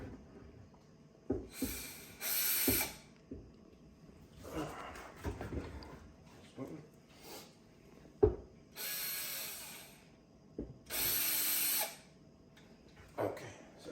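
Two countertop screws on a glass stove top are backed out with a power driver, giving short whirring bursts separated by clicks, knocks and handling sounds, fairly close and moderately quiet.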